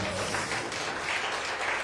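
A church congregation applauds during a sermon, a continuous, moderately loud wash of clapping and crowd noise with a slightly rising swell midway.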